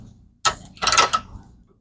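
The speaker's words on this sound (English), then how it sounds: "And then I use the vise to get the last little bit going." A plumbing fitting is tightened in a vise, giving a short mechanical creak and a brief run of ratcheting, grinding metal squeaks, close and fairly loud, with no speech.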